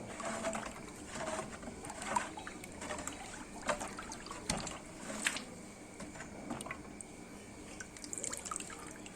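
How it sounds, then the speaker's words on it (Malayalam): Jeevamrutham liquid fertilizer, left seven days in a clay pot, being stirred and mixed: irregular wet sloshes, drips and clinks of the stirrer against the pot, moderately quiet and without talk. "അത് നന്നായിട്ടൊന്ന് ഇളക്കി യോജിപ്പിച്ച് കൊടുക്കുകയാണ്"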